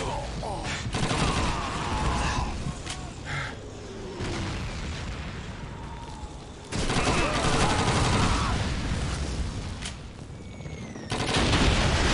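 Sustained MG42 machine gun fire in Call of Duty 2, loud and dense bursts with explosions throughout, swelling louder near the middle and end, no talk over it.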